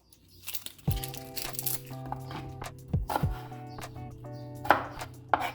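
A knife chops an onion on a cutting board for a pasta sauce: several sharp, close knocks at irregular intervals, mixed with crisp crinkling of onion layers.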